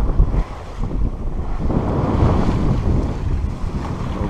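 A small sailboat under sail on a coastal cruise pushes through waves, with steady water wash, hull slap and wind buffeting the microphone close by, no voices.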